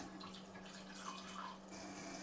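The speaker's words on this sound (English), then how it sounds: "Cleaning water comes down." Cleaning water runs from a Tyent ACE-11 water ionizer plumbed to a cold line, a soft steady faucet-like stream with faint splashing, quiet and continuous.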